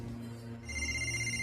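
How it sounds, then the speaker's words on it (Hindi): A telephone rings in a room, a brief electronic trill with a steady tone, heard alone and fairly faint for under two seconds. "राजा, आपका फोन है।"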